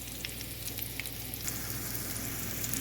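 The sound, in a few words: sautéing thawed meatballs in a pan until browned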